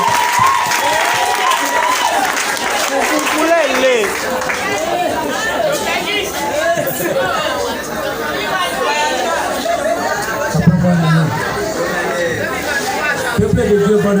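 Church congregation calling out and applauding in praise of God, a dense, lively hubbub of voices with scattered clapping and cheers filling the room throughout, a few individual shouts rising above the crowd.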